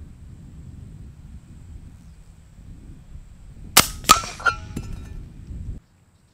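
An FX Wildcat MK2 .25 air rifle fires against a quiet background, giving a sharp, close crack followed by several quick metallic clinks that ring briefly before the sound cuts to silence.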